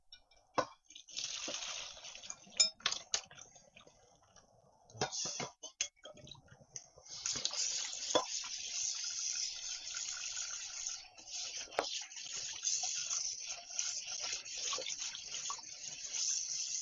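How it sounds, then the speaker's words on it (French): Cold tap water runs from a kitchen faucet over a freshly boiled egg to cool it, a steady close splashing stream building after a few scattered drips and clinks. "on va laisser couler un peu l'eau sur l'œuf pour bien qu'il refroidisse"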